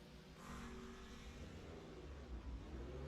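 Race cars in a busy open qualifying session of a sim racing video game, a steady, distant engine drone with rising and falling revs, faint and low under the mix.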